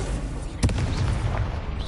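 Casting the Incendio fire spell in Hogwarts Legacy on PS5 sets off a single sharp whooshing burst. A low rumbling roar follows and fades under ongoing game noise.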